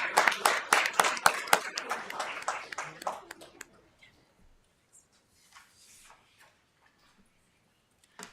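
An audience at a school board meeting claps in a brisk burst of many hands for about three seconds, then the applause trails off into a quiet room with faint scattered sounds and soft talk.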